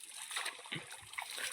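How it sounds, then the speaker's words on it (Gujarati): Water splashes and sloshes as a buffalo sits down in a pond while grazing cattle, a brief close burst of spattering with a faint voice in the background. "પાણીમાં બેઠી તો એને પાણી ઉડાડે."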